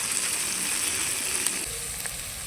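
Onion with ginger paste and garlic paste frying in a pan, giving a steady, bright, close sizzle that holds evenly throughout with no voices.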